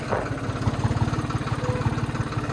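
A tractor engine idles close by on a farm, a steady low rhythmic chugging pulse throughout with no talk.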